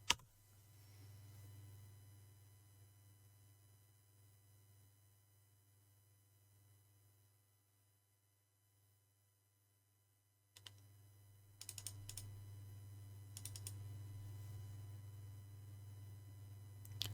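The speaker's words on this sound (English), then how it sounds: "Is your cat using your keyboard?" Typing on a computer keyboard, faint and intermittent, with a steady low hum underneath; the clicks grow busier in the last few seconds.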